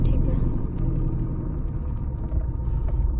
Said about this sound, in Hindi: धीरे धीरे क्लच उठा रहा हूँ मैं, तो ये साथ में जा रहा है, ये इंगेज हुआ, ये टायरों में पावर ट्रांसमिट होने लगी